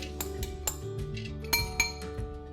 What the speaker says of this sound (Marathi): तर आपण आधी ही डाळ घालूया याच्यामध्ये